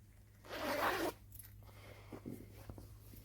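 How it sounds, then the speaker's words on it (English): A zipper on a denim zip bag is pulled in one quick, fairly loud rasping stroke lasting about half a second, followed by faint handling rustles. "So this is denim, and it is a zip bag."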